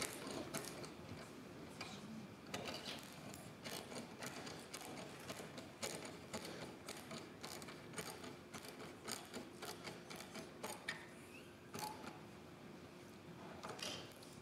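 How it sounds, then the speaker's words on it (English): An articulated surgical tool in a hip replacement demonstration gives off a steady run of faint, close mechanical clicks and ratcheting ticks, with no talking. "We have an articulated tool here."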